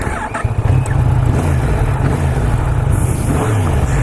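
A Yamaha MT-10 SP with its stock exhaust can runs steadily and loudly throughout, a continuous deep engine drone while being ridden, with no pause in the sound.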